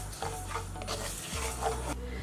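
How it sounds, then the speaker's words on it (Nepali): Three tablespoons of sesame seeds roasting in hot oil for momo pickle, with quiet sizzling and stirring from a spoon scraping the pan in short repeated strokes. No one speaks. "तिल 3 टेबलस्पुन लिएको छौं। यसलाई चाहिँ भुटेर हाल्नुपर्छ"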